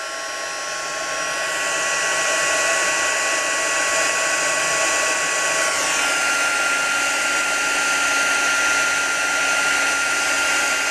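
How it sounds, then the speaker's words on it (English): A heat gun blows with a loud, steady whooshing roar as embossing powder on a handmade Christmas card is heated, running continuously close by with no talking. "warm up the heat gun, and then I'll emboss it"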